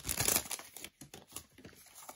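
A big pack of 1988 baseball cards is torn open, with a burst of crinkling wrapper near the start, then softer crackles and rustles of the cards being handled.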